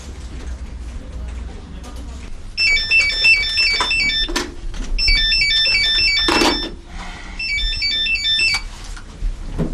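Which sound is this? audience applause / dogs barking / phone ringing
phone ringing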